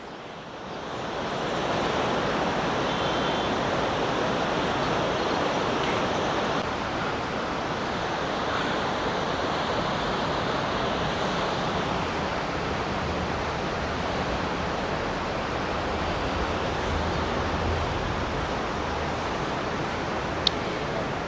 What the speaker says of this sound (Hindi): वैली की पानी की जो आवाज़ है वो यहाँ तक आ रही है